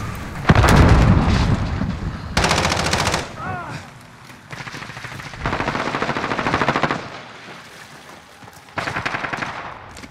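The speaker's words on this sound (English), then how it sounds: "Allied cruise missile away" Explosive bursts and rattling automatic gunfire come in loud waves during a Modern Warfare Domination match on Gun Runner, as a cruise missile strike lands amid the firefight, with a few pauses between heavy blasts.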